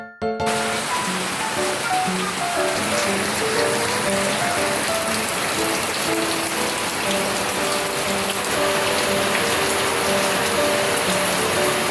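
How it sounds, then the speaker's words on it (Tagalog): Heavy rain falls steadily outside, a dense continuous hiss and patter of drops on surfaces that stays loud and even throughout, with no talk. "napakalakas talaga ng ulan sa labas"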